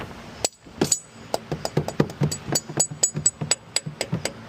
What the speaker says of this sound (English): I'm gonna use a mallet and push these down